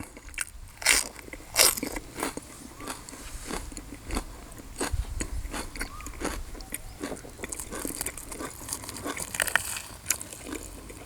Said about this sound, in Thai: กรอบนอกนุ่มในพี่น้อง